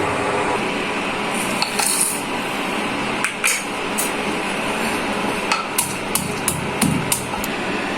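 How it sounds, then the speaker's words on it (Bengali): Peanuts being pounded and crushed for Bengali pitha, a series of sharp knocking strikes spaced irregularly over a steady background hiss, fairly close. "আমি বাদামগুলো একটু ছাঁচা দিয়ে নেব"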